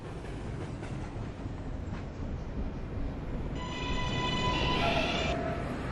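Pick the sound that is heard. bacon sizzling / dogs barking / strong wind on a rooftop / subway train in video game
subway train in video game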